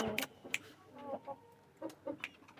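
A rooster in a backyard coop gives a series of short, close clucks in quick uneven bursts, with faint background noise between them.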